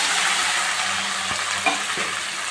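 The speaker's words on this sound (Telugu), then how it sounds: "తాలింపు కాగింది ముక్కలను కూడా వేసేసుకున్నాం" Pieces dropped into hot tempering oil for a dried fish curry sizzle in a steady, dense hiss, with a couple of soft stirring knocks and no talking.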